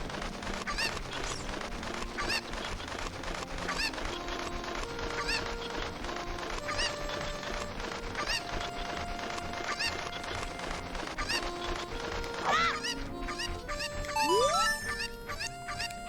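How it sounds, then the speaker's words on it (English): Cucco chickens in the game Ocarina of Time clucking and chattering continuously in a busy, overlapping flock, with game music and sound effects mixed in and a rising whistle-like tone near the end. "Thank you for finding my cuckoos."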